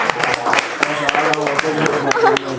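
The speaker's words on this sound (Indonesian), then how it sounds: "Tepuk tangan dong" An audience claps at a Friday-night talk show event, sharp hand claps landing in a loose rhythmic pattern over a backdrop of music or voices, close and fairly loud for a couple of seconds.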